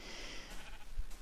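Sheep bleating in Minecraft on Xbox 360, a single drawn-out wavering bleat heard close and fairly loud over steady game background.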